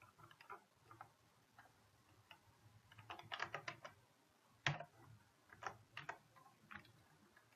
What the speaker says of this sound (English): I'll come back here and type out different names for the VMs